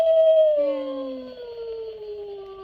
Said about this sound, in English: The other skeleton we have is a dog that howls